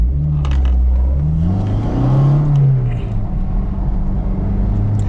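A manual transmission car pulls away hard in first gear, its engine rising in a strong, close rumble that climbs in pitch as it revs, then eases and climbs again, with no talk over it.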